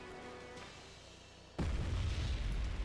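A single artillery shell impact in a war video game lands as a sudden deep boom partway through, followed by a rumbling roar over faint background noise.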